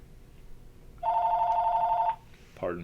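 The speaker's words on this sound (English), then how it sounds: "I do apologize for the phone going off there." A telephone rings indoors in one steady, rapid electronic trill lasting about a second, fairly loud and close, with low background noise before it and a voice starting just after.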